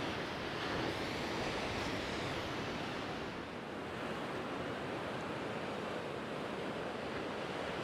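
Steady, loud wind roars across a suspension bridge high above the sea on the Izu coast at Jogasaki in winter, a continuous broadband rush with no voices.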